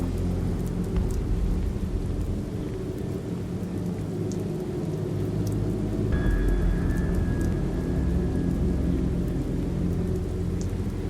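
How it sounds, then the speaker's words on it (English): Rain and thunder in The Moment of Silence video game: a continuous loud rain hiss with low rolling thunder, joined midway by a thin sustained tone, and no speech. "It's raining again."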